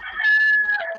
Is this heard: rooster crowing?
yes